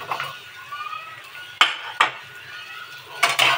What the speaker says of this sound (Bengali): তারপর নাড়তে থাকবো